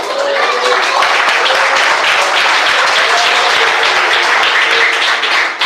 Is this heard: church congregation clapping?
yes